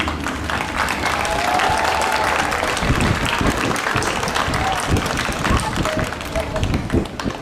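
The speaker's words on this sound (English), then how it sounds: "give them a round of applause." A graduation audience in a hall gives a sustained round of applause, with dense clapping that grows more distinct and choppy partway through and voices talking over it.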